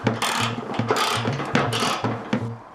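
A hand ratchet undoes a 10mm bolt on a Peugeot 406 front wing: close, loud, rhythmic bursts of rapid pawl clicking, repeated about five times as the handle swings back and forth.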